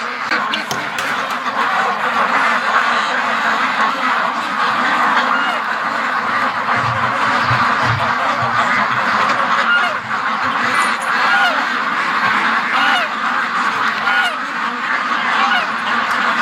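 A flock of ducks being let out of a fenced pen quacks loudly and continuously, dense overlapping calls with a steady, close chorus throughout.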